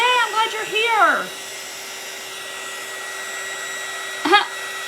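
A hair dryer hums steadily while drying a bunny frame craft, a constant close whir running throughout, with people talking briefly over it at the start and again near the end.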